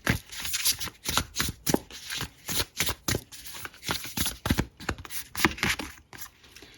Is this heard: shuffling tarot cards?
yes